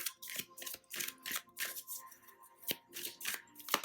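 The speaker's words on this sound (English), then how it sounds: "we're just going to shuffle and cut the deck and take the top card" A deck of tarot or oracle cards is shuffled and cut, giving repeated bursts of riffling and flicking, close and fairly quiet, with no talking.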